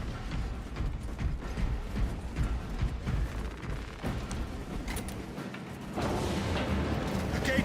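Restocking at an ammo cache in Space Marine 2 produces dense mechanical game sounds: metallic clanks, ratcheting clicks and thuds layered over a busy rumbling battlefield backdrop, with a louder burst near the end and no speech.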